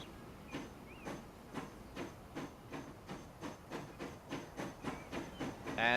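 Britannia steam locomotive in Transport Fever picking up speed, with rhythmic chuffs and hissing bursts coming steadily and slightly faster, faint and at a moderate distance.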